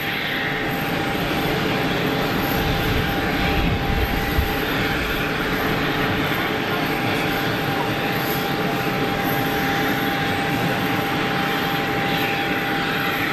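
Vueling jet airliner at Geneva Airport rolling for takeoff, a steady loud engine roar with a sustained tonal whine held evenly throughout, no voices over it.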